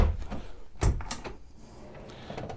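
A storage drawer slides and bumps shut aboard a 2017 Princess S65 yacht, a couple of short close knocks and rattles against a quiet interior.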